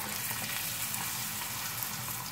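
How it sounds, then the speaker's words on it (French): Salted butter caramel cooking in a pan over low heat and stirred continuously, giving a soft, even bubbling sizzle that holds steady throughout without talking. "je fais mon caramel comme ça. Toujours en tournant"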